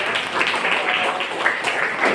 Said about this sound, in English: give a clap for her